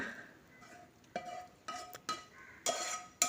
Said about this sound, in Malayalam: ഇനി ഇതിലേക്ക് നമ്മൾ റെഡിയാക്കി വെച്ചിട്ടുള്ള മഷ്റൂം മസാല ഇതിലേക്ക് ആഡ് ചെയ്ത് കൊടുക്കുക.